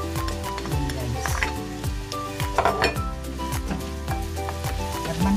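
Onion and ginger sizzle in hot oil in a pan with fatty pork for a Filipino laing dish, a loud close crackle with repeated metallic clinks and scrapes of a utensil stirring, no talking.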